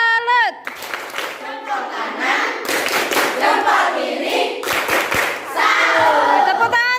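A group of teachers performs a rhythmic clapping routine in a school coaching session, sharp clusters of claps in a patterned beat mixed with chanting voices and cheers, with speech at the start.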